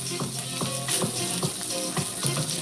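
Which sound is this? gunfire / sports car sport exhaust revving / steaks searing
steaks searing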